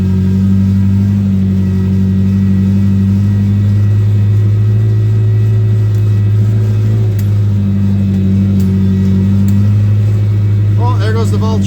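An old car of fourteen years idles and hums with a deep, steady engine drone, close and loud, under murmured talk, with a brief rising rev near the end.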